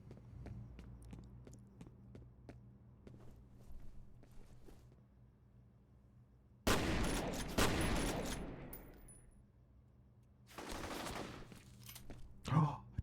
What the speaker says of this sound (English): what are they shooting at me with?